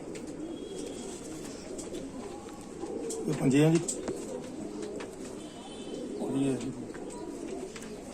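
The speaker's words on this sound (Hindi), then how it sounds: "ओरिजिनल कबूतर हैं तो बोलेंगे" Indian Rampuri pigeons give two throaty coos a few seconds apart, close by, while someone talks quietly over a low background hum.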